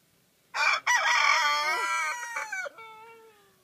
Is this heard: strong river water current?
no